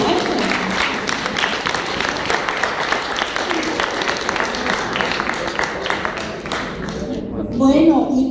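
An audience gives sustained applause at a book presentation, with dense clapping across the room lasting several seconds before it thins out near the end.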